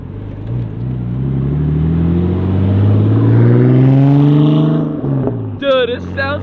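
A Nissan Skyline R34 pulls away after a wheel alignment, its engine note climbing steadily as it accelerates close by, then fading as a voice cuts in near the end.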